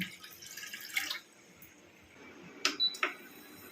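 Water is poured into a cooking pot for ghee rice: a soft splashing pour early on, then a quiet pause and a few sharp, close drips near the end, with no talking.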